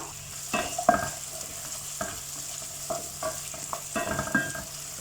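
Prawns sauté in a pan with ground tomato, giving a soft continuous sizzle broken by repeated scraping strokes of a spatula, close and fairly quiet, without speech.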